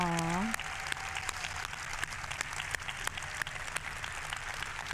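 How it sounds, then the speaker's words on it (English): A live audience at a PAX gaming show presentation for Borderlands 4 gives a faint, scattered round of applause, with a brief tonal sound at the start and talk around it. "Can we all give him a round of applause and send him our love?"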